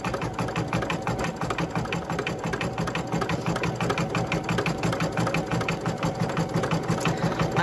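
An embroidery machine stitches an appliqué at slow speed, with a steady rapid mechanical needle rhythm running close and continuous throughout, and no voices.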